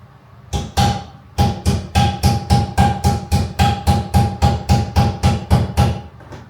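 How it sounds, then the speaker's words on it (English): A hammer strikes a metal part on a Jaguar MKII in a quick, steady series of sharp ringing taps, close and loud, about twenty blows in a row. "Tickle it with a hammer."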